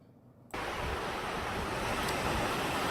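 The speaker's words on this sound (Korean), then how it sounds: "물소리가 계곡이 얼마나 우렁차게 들리는지요." A roaring valley stream runs strong and steady beside a rural property, starting abruptly after a brief quiet and then filling the scene with dense, close, continuous rushing water that never lets up.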